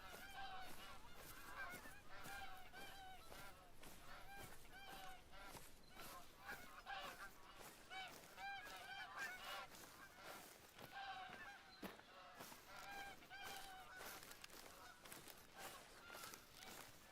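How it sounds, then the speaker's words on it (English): A flock of geese in the hunting game theHunter: Call of the Wild honks constantly and overlappingly, a dense, steady chorus of calls with no pauses. "Frickin' geese make it hard to hear anything else."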